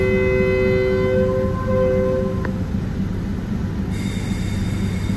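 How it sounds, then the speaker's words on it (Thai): Train number 76 pulls out of Bua Yai Junction station in Thailand with a loud, continuous rumble of railcars. High wheel squeal whines over the rolling noise, a sharp clank comes partway through, and nobody speaks. "ขบวน76ครับก ็กำลังออกเดินทางนะครับจากสถานีชุมทางบัวใหญ่"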